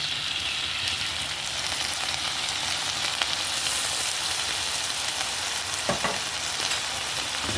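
Ground beef sizzles steadily in a hot pan as it is stirred with dark soy sauce, a constant close crackling hiss with occasional scrapes from the utensil.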